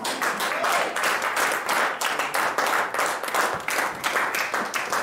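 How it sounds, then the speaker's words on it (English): A church congregation claps hands together in praise, steady dense applause from many people filling the room for several seconds without a break. "give Jesus a good hand clap of praise"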